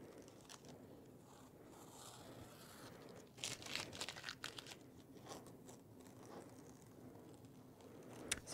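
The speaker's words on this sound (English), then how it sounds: "you can just start peeling off the tape" Painter's tape is peeled slowly off a painted canvas. It makes a faint, close crackling and tearing rustle that grows a little busier midway, with no one talking.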